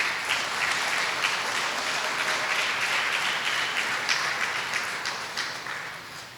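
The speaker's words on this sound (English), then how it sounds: "So give them another round of applause." A large audience applauds teachers at a Waco ISD Outstanding Teacher of the Year ceremony, with sustained, dense clapping that stays loud and steady before tapering slightly at the end.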